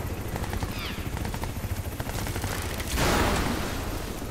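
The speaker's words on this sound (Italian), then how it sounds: "Questo elicottero ha rotto il cazzo." Helicopter in the video game Crysis 3 thrumming steadily through a dense battle soundscape with gunfire, with a louder burst of noise swelling near the end.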